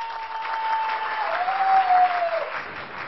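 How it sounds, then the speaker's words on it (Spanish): Studio audience on a Spanish-language TV game show applauding the green team, a loud, dense, continuous roar of clapping with a steady tone ringing through it. "Aplauso para el equipo verde."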